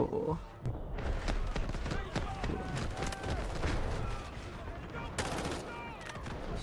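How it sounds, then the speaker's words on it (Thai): Assault rifle fire from the shooter game Delta Force comes as scattered sharp cracks within a dense, noisy battle mix, with voices mixed in. "กระสุนหมดไวมากปืนมัน ลั่นไวมากนะทุกคนปืนมันลั่นไวสุดๆ"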